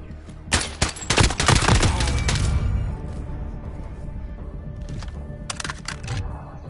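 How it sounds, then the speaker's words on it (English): Video game gunfire in Modern Warfare, a rapid burst of loud close shots followed by a pause, then another short volley near the end. "you heard the bullet."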